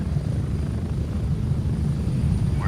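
A low, steady rumble from a helicopter in the military shooter Gray Zone Warfare, heard from the cabin as a continuous heavy drone at an even level, with no speech.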